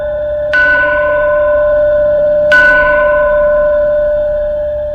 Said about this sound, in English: The temple bells started ringing on their own.